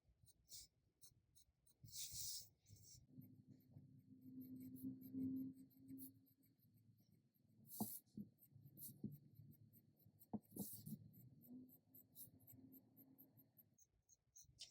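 Pencil hatching strokes on paper make repeated short scratchy bursts in an uneven rhythm, close and fairly quiet, with a faint low hum underneath.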